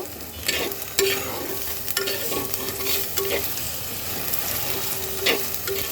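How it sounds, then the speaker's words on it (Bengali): Ginger and garlic paste fries in a clay pot, a steady sizzle broken by repeated scrapes and clinks of a stirring spoon. "সব কিছু একসাথে সুন্দর করে ভাজা ভাজা করে নেব"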